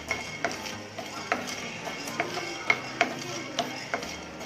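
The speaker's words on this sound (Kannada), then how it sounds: "ಕಾಳು ಮೆಣಸು ಪೆಪ್ಪರ್ನ ಹಾಕ್ತಾ ಇದ್ದೀನಿ. ನೀಟಾಗಿ ಫ್ರೈ ಮಾಡ್ಕೋಬೇಕು." Black peppercorns dry-fry in a pan without oil for rasam, giving scattered sharp ticks and light tapping rattles at an irregular pace, close and clear with no talking.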